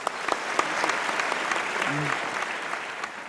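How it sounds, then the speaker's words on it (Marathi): An audience at an awards ceremony honouring women breaks into loud, continuous applause, with dense clapping throughout and a voice briefly heard underneath. "लोकमत न्यूज 18साठी जोरदार टाळ्या आपण वाजवूया"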